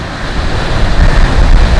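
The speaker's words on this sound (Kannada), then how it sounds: "ಅಲೆಗಳ ಸೌಂಡು" Morning sea waves at a beach in Goa make a loud, continuous surf roar with gusty wind buffeting close to the microphone. No voices are heard.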